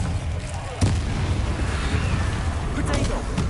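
Bombarda spell explosion in the video game Hogwarts Legacy, a sharp blast near the start followed by rumbling combat noise and later smaller bursts, with a voice talking over it.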